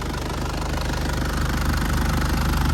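Isuzu Dragon Eye 3.0 SLX pickup truck engine running hot, a steady close knocking diesel idle with an even, rapid rhythmic clatter throughout.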